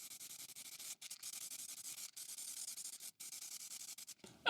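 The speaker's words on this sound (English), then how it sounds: "Best thing to do it is some clear varnish. Just spray it on and leave it for a few minutes to dry." Clear varnish sprayed from a can onto laser-cut wooden Christmas cards: a close, steady hiss in a series of bursts, each broken by a brief pause, with no talking.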